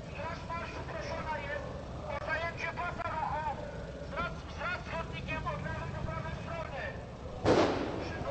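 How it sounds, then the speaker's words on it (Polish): A single sharp blast bursts out near the end amid the steady rumble of a large street crowd and talking voices during the 2012 Independence March. "Słychać było właśnie wybuchy, ale wszystko jest spokojnie."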